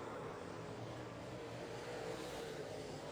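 Late model race cars roar around an oval track in a heat race: a steady, distant, faint wash of engine noise with no clear pass-by peaks.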